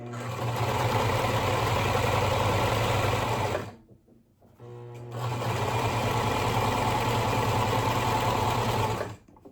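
A sewing machine stitches fabric for a scrunchie in two long bursts of steady, rapid mechanical whirring, briefly stopping in between, close and loud with no talking.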